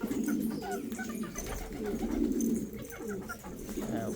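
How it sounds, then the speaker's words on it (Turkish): Low, throaty pigeon cooing repeats close by amid a busy, murmuring background of other birds. "Bayburtumuz orada ötüyor gene"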